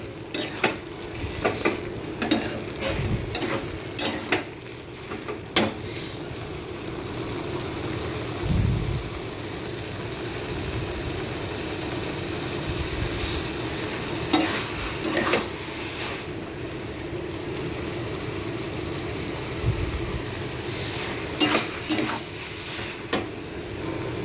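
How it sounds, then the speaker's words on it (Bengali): Banana flower curry with lentil cakes cooks in a pan under constant sizzling, while a spoon scrapes and clacks against the metal in frequent stirs, some sharper knocks standing out close by. "চাপড়টা দিয়েও খুব ভালোভাবে আমি মিশিয়ে নেব"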